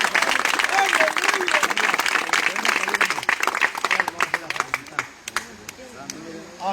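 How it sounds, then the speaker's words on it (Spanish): A church congregation claps hands together as an offering to Christ, dense applause-like clapping mixed with voices, then thinning into scattered individual claps toward the end. "Así le damos ofrenda de palmas a Cristo."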